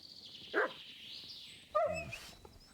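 Mutt, a dog in the medieval game Kingdom Come: Deliverance II, gives a short whimpering yip, then after a pause a louder bark and a few whines, heard close over a quiet outdoor ambience.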